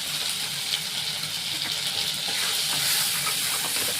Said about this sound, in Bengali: এই মশলাটা মোটামুটি অনেকটা কষানো হয়েছে।